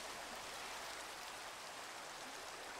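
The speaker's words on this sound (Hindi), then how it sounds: "इस बारिश से मैं तंग हूँ।" Steady rain falls in a Minecraft world, a constant broadband hiss of pattering drops that holds even and unbroken throughout, with no voices.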